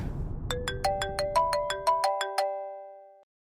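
Mobile phone ringtone playing a bright, bell-like melodic pattern of about a dozen quick chiming notes over faint background noise, then cutting off.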